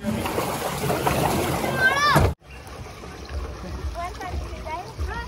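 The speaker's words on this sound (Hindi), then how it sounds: "यहाँ पर अभी हम बोटिंग वाली राइड करने वाले हैं" Boat ride on the water at Fun City amusement park in Bareilly, with steady splashing and water noise, a sharp cut partway through, then softer lapping and rippling under chatter and a voice.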